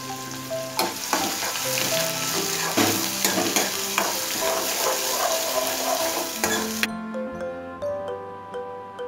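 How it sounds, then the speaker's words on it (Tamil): Chopped onions sautéing in oil over a medium flame make a busy sizzle with frequent stirring scrapes and clinks over soft background music; the hiss drops away sharply near the end. "வெங்காயத்தை நல்லா எண்ணெயில் வதங்கட்டும்."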